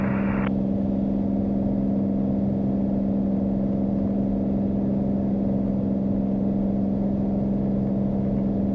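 A Beech airplane climbs out after takeoff from runway 7 at Marathon in the Florida Keys, its engine droning as a loud, steady, unbroken hum heard from inside the cabin.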